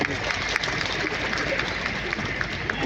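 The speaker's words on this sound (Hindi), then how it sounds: "एक बार जोरदार तालियां बजाने के लिए।" Loud, steady applause from a crowd at a Hindi-language political gathering in Fatehpur, a dense wash of clapping that continues evenly throughout with no break.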